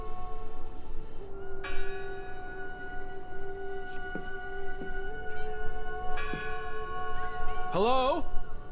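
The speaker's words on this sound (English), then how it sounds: "I heard the bell!" A church bell rings within the horror adventure game Draugen, its sustained metallic tone holding steady across the scene, with louder strikes and a swelling ring near the end over a constant ambient game backdrop.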